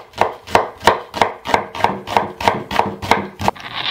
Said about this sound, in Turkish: Soğanlarımı ise yemeklik doğruyoruz.